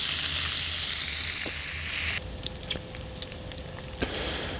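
Bratwurst patties and bacon browning in a cast iron pan on a stovetop, a dense steady sizzle that drops to a quieter crackle partway through, with a few small pops and clicks.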